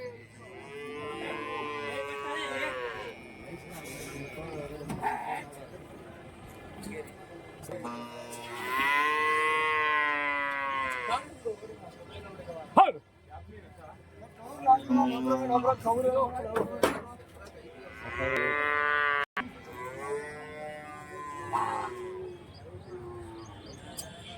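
Cattle and large bulls moo loudly and repeatedly at a big Friday cattle market in Kundarapalli, Krishnagiri, long drawn-out calls close by, with a few softer lows and background bustle in between.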